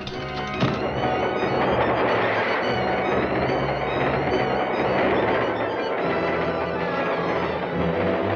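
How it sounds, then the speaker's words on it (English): A 1940 train runs steadily near a tunnel, a dense, continuous rumble and clatter of wheels on rails that holds loud and even throughout, with a brief knock near the start. "Just follow that train."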